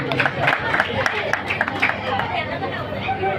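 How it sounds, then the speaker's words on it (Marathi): Applause and crowd chatter for a bhajan singer at a devotional singing event, a dense hubbub of clapping and voices filling the room close by. "एकदा जोरदार टाळ्या बुवांसाठी झाल्या पाहिजे"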